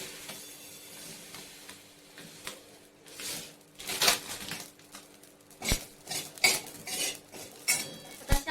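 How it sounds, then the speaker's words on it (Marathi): A utensil stirs roasted shahi cumin seeds in a pan, making soft scraping and rustling with intermittent light clinks against the pan. The sounds come in quiet, irregular bursts close by. "आता या जिऱ्यामध्ये सुद्धा असं उलातलं फिरवते म्हणजे लवकर थंड होईल"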